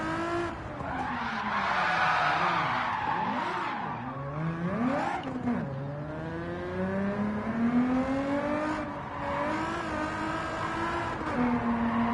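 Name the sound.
tyres skidding under braking in racing video game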